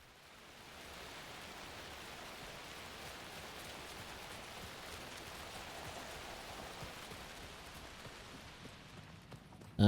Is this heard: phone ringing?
no